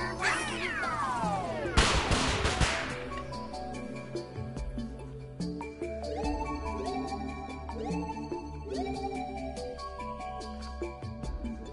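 Cat meows rise and fall repeatedly inside a VR video game, riding over game music and sound effects, with a loud crash-like burst early on, while no one talks.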